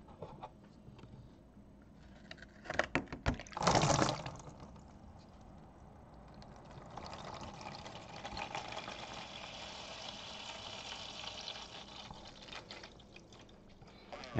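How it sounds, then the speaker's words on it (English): Water pours and splashes briefly from a cooler's drain plug on a motorcycle trailer, then a steady low trickle of draining water runs on, fairly quiet and close. "I'm gonna pull the drain cap."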